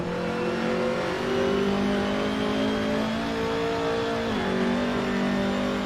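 Race car engine in a BTCC racing video game at Oulton Park, droning steadily through a lap with clear gear-change dips and rising revs, loud and continuous with no talk.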